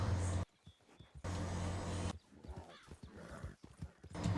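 A horse neighs and its hooves clip-clop in short bursts separated by quiet gaps, fairly close, with a few faint voices between the sounds.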